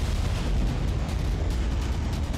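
A deep, sustained rumble from the Beirut port explosion of 4 August 2020 rolls on loudly and continuously, with heavy low-end roar and no voices.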